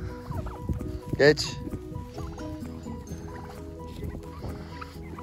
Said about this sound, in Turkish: Çılgın hindi seni.